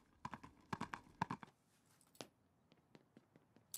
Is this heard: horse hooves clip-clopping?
yes